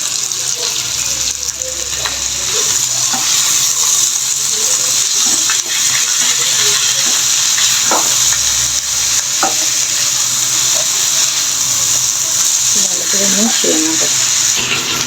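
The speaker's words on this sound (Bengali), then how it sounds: "এখন আমি সেই ভেজে রাখা চিকেনগুলো দিয়ে দিচ্ছি" Fried broiler chicken pieces go into a frying spice paste and are stirred, a steady sizzle with scraping stirs throughout while someone talks over it.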